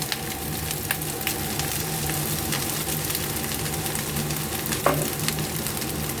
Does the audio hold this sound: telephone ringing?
no